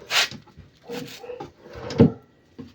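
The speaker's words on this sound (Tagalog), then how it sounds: "So smooth yung ating drawer dahil may roller guide." A plywood drawer on roller guides in an amplifier rack slides open and shut several times, giving short scraping rolls and soft bumps with quiet gaps between them, close by.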